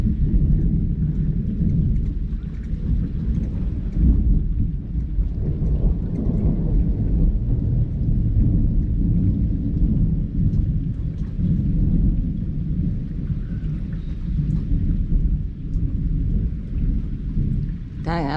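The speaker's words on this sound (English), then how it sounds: "Dang, that's one long thunder." Long rolling thunder during a heavy rainstorm, a deep continuous rumble that swells and drags on for many seconds over the steady hiss of falling rain.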